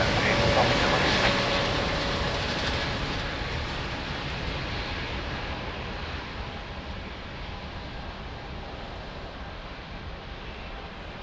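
A jet airliner taking off at Lisbon Airport, a loud broad roar at first that slowly fades and thins as the aircraft draws away.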